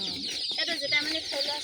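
A group of local chicken chicks peep in high, shrill, overlapping chirps while they are being counted. The sound is close and continuous, with a few faint lower clucks underneath.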